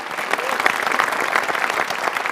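Brisk, loud applause from a studio audience on a Persian talk show, with dense overlapping claps continuing for a couple of seconds and no voices on top.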